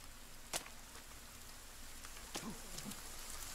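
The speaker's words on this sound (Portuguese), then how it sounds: "liga como tá chovendo" Rain falls steadily in a soft, faint hiss with a few scattered sharper drips and taps, heard alone without voices.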